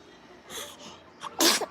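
A single sharp sneeze, preceded by a quick inhaling build-up, close and loud, with no talking.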